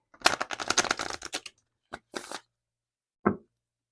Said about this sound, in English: Let's give them a good shuffle, actually.